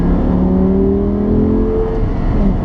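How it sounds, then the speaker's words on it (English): Loud V10 engine of a 2012 Audi R8 Spyder GT heard from onboard while driving, a steady droning growl with rising harmonic tones as it pulls. "My second favorite thing about this R8 GT Spider is the sound that this V10 makes"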